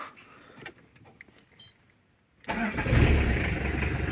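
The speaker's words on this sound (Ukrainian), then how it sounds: "Ми заводимо двигун" A Peugeot Partner van engine cranks and catches, then settles into a loud, steady idle after a quiet pause with faint clicks.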